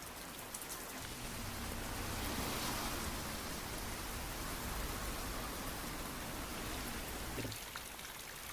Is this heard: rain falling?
yes